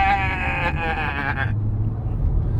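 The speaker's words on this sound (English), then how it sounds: "did you see any of the sheep, Rory?" A sheep bleats once in a drawn-out, wavering call over a steady low engine-like rumble, fairly close, then the call stops and the rumble carries on alone.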